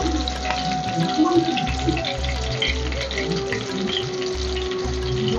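Green chillies and peanuts frying in a pan, a continuous hiss and sizzle with intermittent low thumps of stirring, near and fairly loud.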